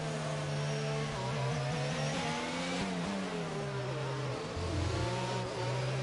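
Race car engines in an F1 esports video game race, including an Alpine on board down the main straight with its rear wing open, whining loudly and steadily with shifting pitch as several cars battle closely.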